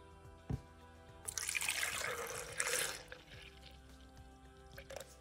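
Tap water running over strawberries being washed in a sink, a splashing gush that swells for a couple of seconds and then settles into a softer trickle, close by, preceded by a single knock.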